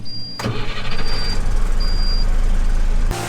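Farm truck at harvest, loaded full with crop, its engine running steadily and close after a brief start, with a continuous low rumble and a faint high tone that comes and goes.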